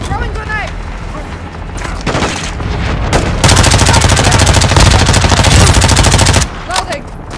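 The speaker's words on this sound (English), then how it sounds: "Throwing grenade." A grenade blast and sustained automatic gunfire ring out in Call of Duty MW2 combat, with loud rapid bursts and a dense continuous volley in the middle. Radio-style voices speak around the shots.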